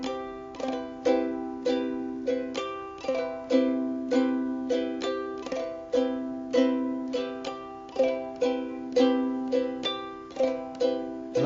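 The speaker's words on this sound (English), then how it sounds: "And that's our basic bossa nova strum" Ukulele strummed in a basic bossa nova pattern, steady rhythmic chords repeating evenly with bright plucked attacks and short ringing decays, close and clear with no voices.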